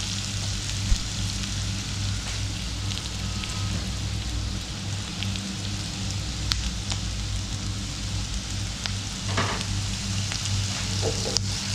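Chopped ginger and garlic sauté in hot oil in a pan for eggplant curry, giving a steady, fairly quiet crackling sizzle with occasional sharper pops and light stirring scrapes, with no voices.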